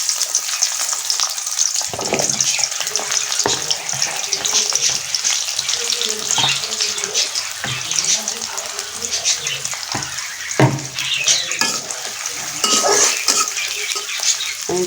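Onions drop into hot oil in a home kitchen and sizzle loudly and steadily throughout, with spoon stirring and pot clatter over the frying and a voice speaking briefly.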